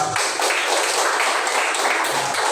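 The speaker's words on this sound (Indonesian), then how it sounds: "Beri aplaus sama buat kelompok 2" Students in a classroom applauding for a group, a steady patter of many hands clapping at once for a couple of seconds.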